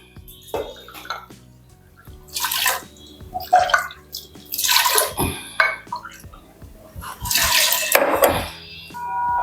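Water is poured into a pressure cooker holding washed toor dal lentils in a home kitchen. It comes as several splashing gushes with pauses between them, and dull knocks of metal cookware are heard close by.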